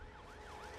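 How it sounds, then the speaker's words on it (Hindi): An ambulance siren wails in a wavering up-and-down sweep, faint and distant beneath a low background rumble. "यहाँ पर एम्बुलेंस आ गई है।"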